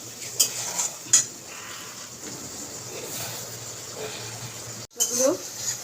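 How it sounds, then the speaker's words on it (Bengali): Curry is stirred and sautéed in a pan before eggs go in, producing a low, faint sizzle with scattered spoon clinks against the pan, and a brief pause near the end. "ভালো করে নাড়াচাড়া করে কষবো"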